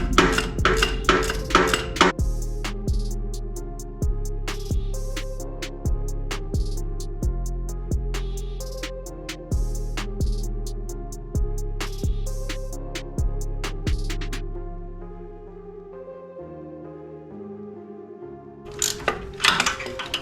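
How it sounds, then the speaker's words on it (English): Bolts coming off the differential of a 2020 Ford Escape all-wheel-drive system, heard as a close series of sharp, ringing metallic impacts in a steady rhythm for about fifteen seconds, then a pause and a few final clanks. "But I'm gonna remove the 3 bolts down here on the bottom."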